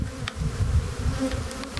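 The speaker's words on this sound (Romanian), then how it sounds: "Era aici mult albin afară" Honey bees swarm in a dense, steady buzz at the hive entrance of a colony in pre-swarming fever. The drone holds close and continuous throughout.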